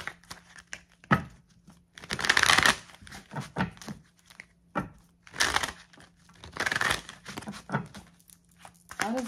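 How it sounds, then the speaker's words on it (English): Tarot cards are shuffled by hand in several bursts of papery riffling and crinkling, close and fairly loud, separated by quieter pauses with small taps and rustles. "Let me just shuffle three times."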